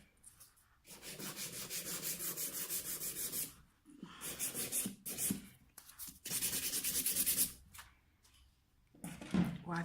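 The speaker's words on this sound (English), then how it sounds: "Wiping it off again to make sure that we've got it all shaped properly." Dust is wiped off freshly shaped polygel nails in several brisk rubbing bursts separated by short pauses, close and fairly soft, with no talking.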